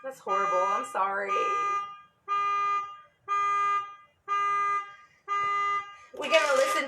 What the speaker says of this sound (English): Let's jam to the car alarm out there.